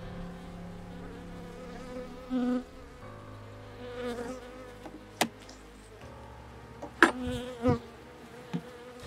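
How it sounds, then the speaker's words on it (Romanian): Bees buzz faintly inside a hive in a two-box colony, a quiet low drone with scattered louder buzzes and a few sharp clicks or knocks from handling the boxes. "Foarte puține albine au urcat în corpul de sus."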